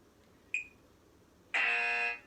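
Two electronic workout interval timer beeps: a short chirp, then a longer, louder sustained beep about a second later.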